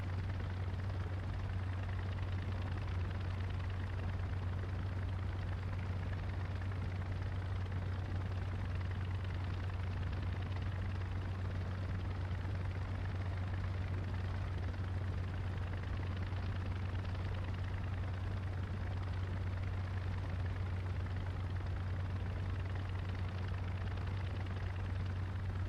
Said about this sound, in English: There's the gyro spooling up.